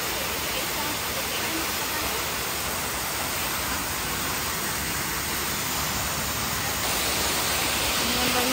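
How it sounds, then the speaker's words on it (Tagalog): A waterfall roars as a dense, steady wash of falling and splashing water, loud and close from start to finish. "Ayun yung tubig sa baba. Yung talsik ng tubig hanggang dito."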